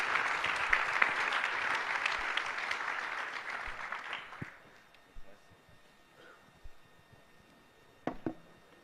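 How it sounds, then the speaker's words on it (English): An audience at a Bitcoin security panel at Baltic Honeybadger 2022 applauds with dense, steady clapping that fades out after about four seconds. A few scattered claps and soft room noises follow in the quiet. "please give a big round of applause for these guys"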